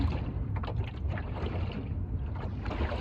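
A small sailing dinghy runs up toward a beach amid steady rushing water and wind buffeting the microphone, a continuous close wash of noise with no voices.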